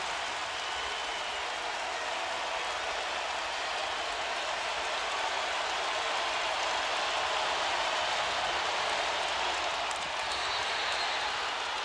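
Women's college basketball crowd, Ole Miss against Minnesota in an NCAA second-round game, cheering after a Minnesota basket in a dense, sustained roar of applause and shouting that holds loud and even throughout.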